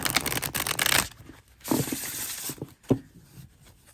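A tarot card deck is shuffled up close, a dense riffling burst followed by softer scattered card slides and taps.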